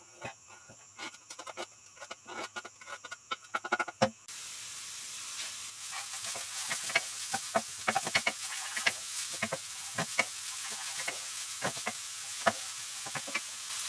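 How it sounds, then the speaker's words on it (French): Onion and garlic frying in olive oil in a hot pan, a steady soft sizzle and hiss with scattered crackles and stirring clicks, close and fairly quiet, with no talking. "on va y faire revenir l'oignon et la gousse d'ail"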